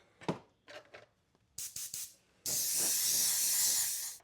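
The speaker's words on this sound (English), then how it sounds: "We will back this with white before we try to spray anything else over it" Several short hisses of aerosol spray paint go onto a Tekno RC ET48 body, then one long continuous blast. The spraying is close and crisp, with faint handling noises between bursts.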